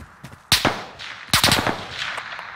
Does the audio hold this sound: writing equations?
no